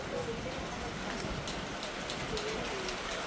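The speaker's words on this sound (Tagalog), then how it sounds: "ulan yan umuhos ng ulan" Steady rain pours down in a dense, even hiss, with faint background voices and a bird cooing somewhere in the distance.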